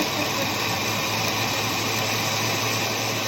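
An electric juicer processes oranges on its low setting, giving off a steady, loud, unbroken motor whir with a constant low hum, heard up close with no talking.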